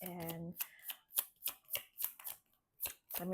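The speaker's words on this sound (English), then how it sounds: "let me just shuffle." Tarot cards are shuffled in a quick series of crisp riffling flicks and soft slaps up close, after a brief moment of a voice at the start.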